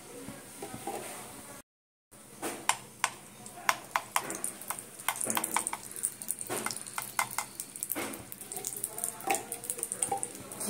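Ghee going into a heated pan on a home stove while making coconut naru, giving soft drips and light sizzling with scattered sharp clinks of utensils against the pan, close and fairly quiet, with no talking.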